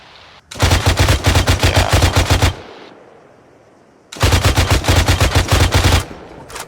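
Bursts of machine gun fire in the Arma 3 military game: two long, loud, rapid strings of evenly spaced shots with a quieter lull between them.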